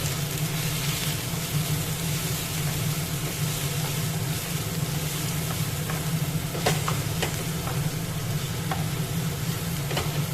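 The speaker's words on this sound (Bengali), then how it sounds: "ভালো করে সব মশলাটা কষিয়ে নিতে হবে।" Ground chili, turmeric, coriander and cumin fry in a pan for a chicken patties filling, giving a low, steady sizzle that runs evenly throughout, with a few faint clicks of a utensil and no voices.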